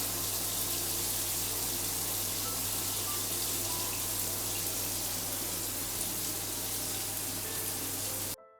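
Shower water runs in an evening bathroom in Japan, a steady, close hiss of spray that continues without pause before cutting off abruptly at the end.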